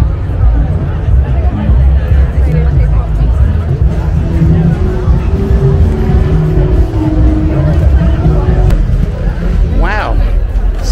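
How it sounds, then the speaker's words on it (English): Dense, loud crowd chatter fills a street festival in Newtown, Wellington, a continuous babble of many voices close by, with some traffic rumble underneath. "Yes, I'm in the middle of all this crowd."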